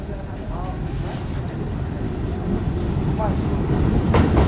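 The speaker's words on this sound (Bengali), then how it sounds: "সৈয়দপুর রেলওয়ে স্টেশনে চলে আসলাম" Saidpur railway station in northern Bangladesh, with a train rumbling steadily and loudly through, low clattering wheels building slightly toward the end while a voice talks over it.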